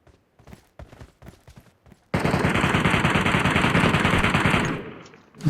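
PUBG Metro Royale gunfire: scattered single shots and short bursts, then a long, loud, sustained stream of automatic fire that fades out, alone without talk.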